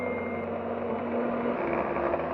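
Electric mixer whirring steadily as it blends zucchini bread batter with beaten butter, a continuous droning motor hum running loud and unbroken throughout, with no talking.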